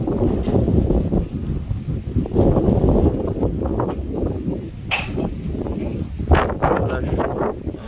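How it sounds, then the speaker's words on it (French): Strong foehn storm wind from the south buffets the microphone in rumbling gusts, with rustling leaves and a few sharp taps in the background. "la rafale qui arrive"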